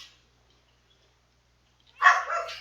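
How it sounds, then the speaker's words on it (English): Minecraft wolves barking on a multiplayer survival server: after near silence, a short burst of a couple of bright, yappy barks rings out close and clear, with no talk over it. "Dogs are barking."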